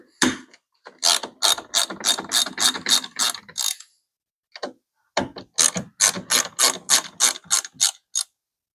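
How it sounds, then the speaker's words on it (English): A ratchet with a 10 mm socket loosening the battery terminals on a 2011 Dodge Nitro 3.7L, close and loud, in two runs of rapid clicking strokes separated by a short pause and a couple of isolated clicks. "we're going to use a 10 mil socket to loosen up the terminals, as well as the hold down right here"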